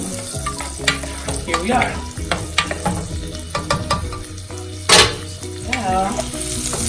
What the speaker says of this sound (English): I decided to fry up some bacon and onions